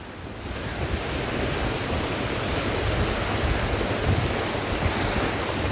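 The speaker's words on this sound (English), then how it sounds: "Look at this though, the mighty River Annan" The mighty River Annan in Dumfries and Galloway flows in a full, steady rushing roar, close and constant throughout, with no voices.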